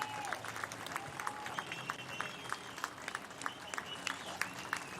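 Crowd at a Lisbon dock applauds sailing race winners arriving in port, steady dense clapping with scattered cheers and whistles throughout, moderately distant.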